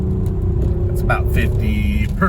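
A 2006 Audi A6 Avant Quattro wagon with a 3.2 V6 engine runs at half throttle in city driving, a steady low drone beneath someone talking.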